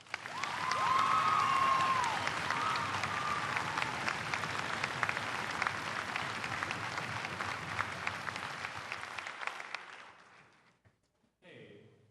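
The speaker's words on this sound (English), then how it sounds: "Please give a warm welcome and a round of applause to senior drum major Pat Kelleher." An audience at a school marching band concert applauds a senior drum major, with loud sustained clapping that slowly thins and fades out, plus a few faint calls.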